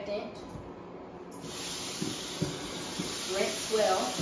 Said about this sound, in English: Spray with this disinfectant